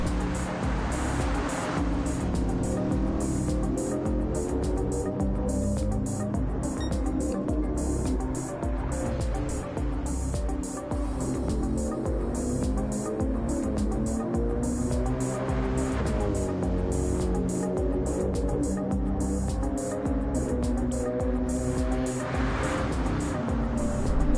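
Mercedes AMG race car engine at the Red Bull Ring in a wet online racing video game, a steady, loud high-revving drone with rising and falling pitch through gear changes, continuous throughout.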